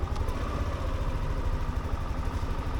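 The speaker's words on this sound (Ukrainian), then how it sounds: "Працює ідеально, тихесенько, новий мопед." A new moped's engine idles steadily after starting, a close, quiet, even mechanical chug with light clatter and no talking.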